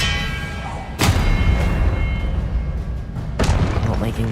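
A disarming spell cast in a Hogwarts Legacy duel: two sharp, booming impacts about two seconds apart, each snapping loudly over a steady wash of game ambience, with a voice nearby.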